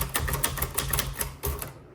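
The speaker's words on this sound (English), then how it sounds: "but I'm going to keep typing." Rapid typing on a 1955 Olivetti Lettera 22 manual typewriter, a close, steady run of crisp key strikes at an even rhythm that ends abruptly in quiet.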